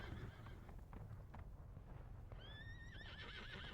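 Horses in a Civil War video game galloping with steady clip-clop hoofbeats and a drawn-out, wavering whinny near the end, loud and constant beneath a busy battle ambience with no voices.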